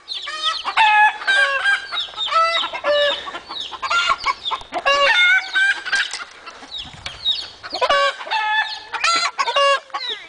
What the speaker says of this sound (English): Ole and his ladies, making lots of noise.